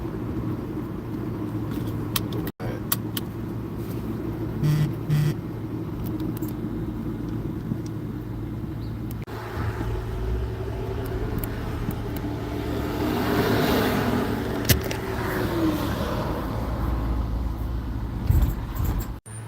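A car drives along a road in traffic, a steady low engine and tyre rumble filling the whole stretch with occasional swells and soft knocks from inside the cabin, with no one talking.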